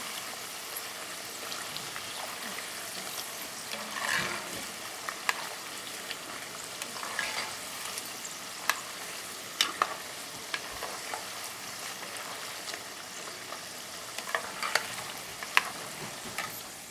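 Corn tortilla chips frying in hot oil on a stovetop, a steady close crackling sizzle with scattered small pops and bubbling throughout, no voices.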